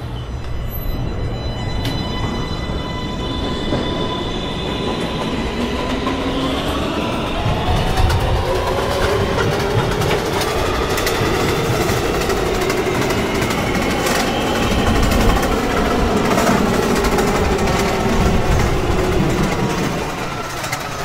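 A subway train departs in the NYC Subway Automatic video game, its loud steady motor and rail rumble running the whole time, with the tone rising and shifting as it picks up speed.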